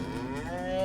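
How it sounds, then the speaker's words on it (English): A cow gives a long, loud, drawn-out moo that rises in pitch at the end, in the video game Call of Juarez Gunslinger, with no talking over it. "Those cows sure are loud."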